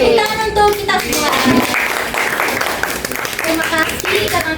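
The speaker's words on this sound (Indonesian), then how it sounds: "Tepuk tangan untuk kita semua." A classroom of students claps at the end of a biology lesson on membrane transport, scattered hand claps mixed with voices and chatter, fairly loud and close.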